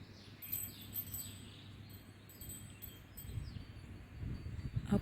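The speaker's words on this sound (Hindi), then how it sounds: "देखो सभी चिड़िया अलग अलग भाषा में बोल रही है" Several birds chirp and call faintly in the distance over a low, steady background rumble, with scattered high tweets throughout.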